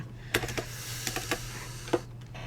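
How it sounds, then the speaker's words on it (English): Someone typing on a computer keyboard during a physics recitation, a short burst of close, soft key clicks over a low steady hum, with no talking. "I'm typing that."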